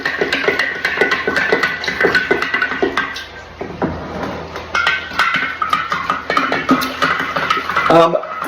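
A spoon stirs sugar into kombucha in a metal pot, giving a rapid, uneven run of clinks and scrapes against the pot's sides that goes on for several seconds, with a voice talking over it.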